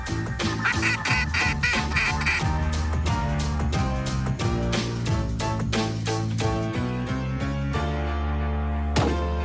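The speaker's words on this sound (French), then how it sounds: "ce qui passe devant nous, c'est un couple de canards noirs" A pair of black ducks passing by in a field during a duck hunt, giving rapid repeated quacks and calls in a busy, loud, overlapping stretch, with no talking.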